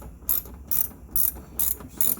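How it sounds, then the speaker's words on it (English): Ratcheting clicks while screws are tightened on a Toyota Prius bracket, five short crisp bursts spaced at an even rhythm, close and clear with no talking. "Now I'm going to tighten the screws"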